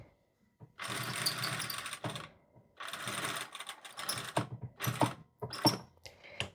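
A sewing machine stitches a pocket onto a Chanel-style jacket, running in several short bursts of rapid mechanical whirring separated by brief pauses, close and clear with no talk.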